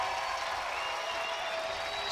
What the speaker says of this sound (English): The crowd gets even louder.